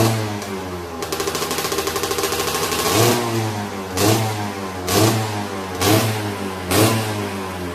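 A stock 200 two-stroke motorcycle engine revs repeatedly, a steady buzzing idle broken by several sharp, loud throttle blips in a rhythmic pattern, close by.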